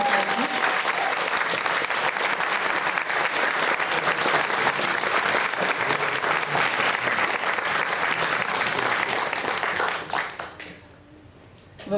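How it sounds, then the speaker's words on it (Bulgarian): Sustained, dense audience applause fills a concert hall, loud and steady for about ten seconds before dying away abruptly near the end. "моля, сега е момента за много аплодисменти"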